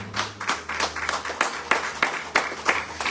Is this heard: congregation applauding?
yes